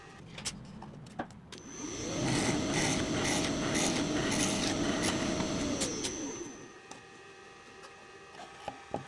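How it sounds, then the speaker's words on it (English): A drum sander runs steadily with a harsh, rasping grind for several seconds as wooden drawers feed through, framed by scattered knocks and clatter before and after. "I put them through the drum sander"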